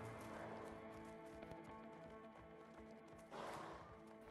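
Horses in the video game A Way Out clop and stir in a busy mix of hoof knocks and rustling, with a louder burst of movement near the end.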